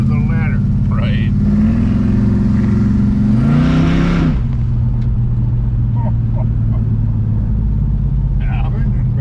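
Car engine during a ride, a constant deep rumble with the revs climbing in steps to a louder peak then dropping back, heard from inside the car while people talk over it.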